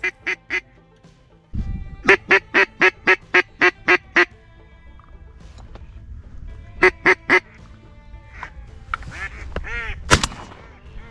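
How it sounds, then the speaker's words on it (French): A mallard duck approaching during a hunting-season opening quacks in loud, close bursts: a quick rhythmic series of harsh calls, then a short pair, with rustling and a sharp crack near the end. "j'aperçois un premier canard qui se dirige droit sur moi"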